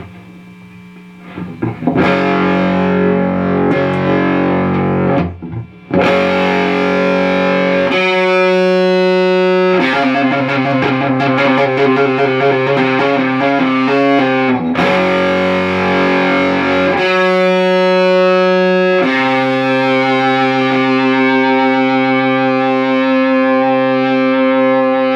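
Electric guitar through a Laney Supergroup 100 Mk.1 preamp clone pedal with the boost engaged, loud saturated distorted chords held long and sustaining, with short gaps between chord changes and no talking.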